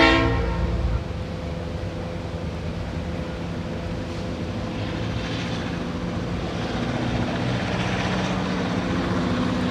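A model train runs on its track, a steady mechanical rumble with layered tones continuing throughout, loud at the start then holding even, with no clear separate whistle blast standing out.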